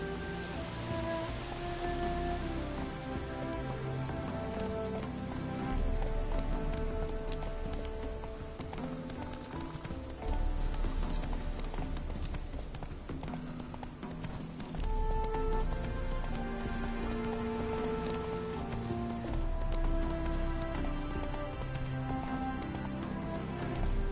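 Roach the horse gallops in The Witcher 3, steady clip-clop hoofbeats running over a bed of rain and swelling orchestral game music, loud and continuous throughout.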